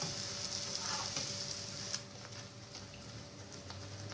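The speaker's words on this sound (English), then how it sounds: "So right now our gas is on sim or low flame. So make sure you're cooking your malpuas on medium flame basically." Malpuas frying in ghee in a pan on a low gas flame, giving a steady, close crackling sizzle throughout with a few brief clinks of a utensil.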